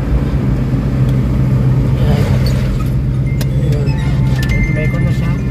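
A Mitsubishi Adventure with low power and weak acceleration hums steadily from inside the cabin on a test drive, with faint jingling and people talking over the engine.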